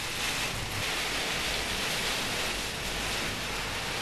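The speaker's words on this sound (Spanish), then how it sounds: "Ya no estoy acostumbrado a estas lluviesotas." Heavy downpour hissing steadily and loudly throughout, a dense, broadband wash of rain with no breaks and no voices.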